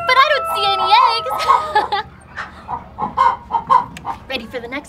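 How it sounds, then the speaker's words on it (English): Two chickens cluck in a children's cartoon, brief bird-like calls heard alongside a lively voice and music. "first door we have two chickens, but I don't see any eggs."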